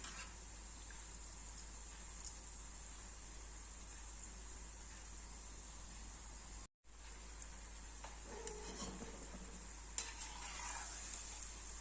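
Sweet seedai, a Krishna Jayanthi rice-flour snack, frying in oil over a low flame, giving a steady soft sizzle throughout with a brief dropout midway and faint stirring scrapes near the end.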